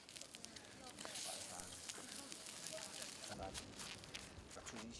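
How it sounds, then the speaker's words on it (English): A campfire crackles and snaps on a high plateau in Eastern Tibet as a lamb slowly roasts and is basted with marinade, with dense continuous crackling, close and steady, and faint movement around it. "They make a campfire and slowly cook the lamb while basting it with a marinade."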